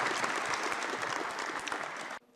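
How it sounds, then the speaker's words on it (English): Brief audience applause at an official industrialization week opening ceremony, dense steady clapping from a large room that stops abruptly after about two seconds. "Please, a round of applause for Mucha."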